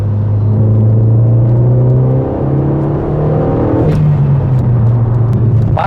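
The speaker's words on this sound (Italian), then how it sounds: "L'aspirazione si sente un cifro, non so se si sente dalla telecamera, ma soffia" Renault Megane RS Trophy engine revving with a loud blowing turbo intake, a steady droning rumble that climbs in pitch, dips, then rises again with a rushing whoosh, close and continuous with no talk.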